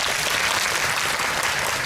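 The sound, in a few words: applause for the two actors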